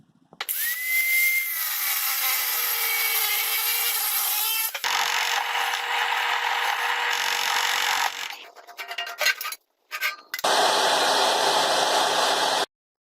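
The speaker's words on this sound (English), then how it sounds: "I'm going to drill this out so I can sandwich the baling wire, or baling strap, excuse me, in between this and the impeller" A drill boring through a metal bracket on a John Deere snowblower impeller flap modification, a loud continuous whine in three long bursts with brief pauses and a short gap near the end, no talk.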